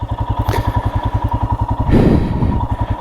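A 2022 Royal Enfield Himalayan motorcycle thumps along close by with a steady, even single-cylinder pulse while riding on mountain roads, and a brief rush of wind or throttle swells about two-thirds of the way through.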